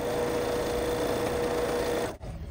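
Sewing machine chain piecing fabric squares, stitching continuously with a steady, close, whirring hum that runs evenly and then stops abruptly near the end, with no voices.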